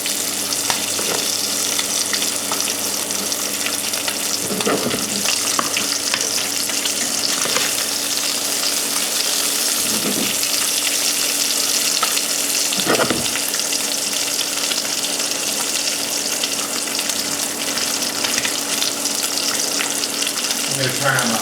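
Bacon fries in a pan with a steady, loud crackling sizzle. Occasional bumps and scrapes from handling the pan break through every few seconds, and faint running water may sound in the background.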